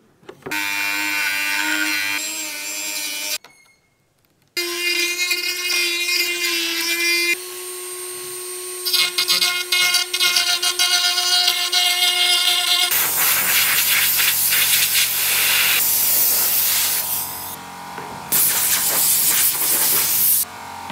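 A loud power tool whines and grinds through a Starlink satellite dish nearby, with a brief pause partway through, then harsher, rougher cutting noise.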